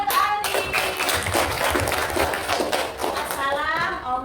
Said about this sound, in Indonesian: Iya, tepuk tangan untuk Aldi.